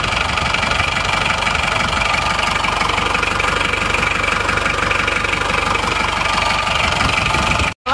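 A diesel engine idles after being fitted with NPR cylinder liners and piston rings, a loud, steady mechanical clatter with an even knocking rhythm running without a break until an abrupt stop at the end.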